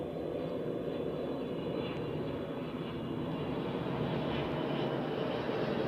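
An airliner at Zurich Airport taking off from runway 28, a steady, loud continuous engine roar and rumble holding throughout without any talk.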